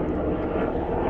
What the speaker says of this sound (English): there's a helicopter going over at the top right now